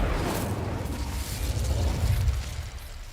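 The Incendio fire spell in Hogwarts Legacy lets out a rushing, roaring blast that swells and holds for a few seconds before fading slightly, loud and close.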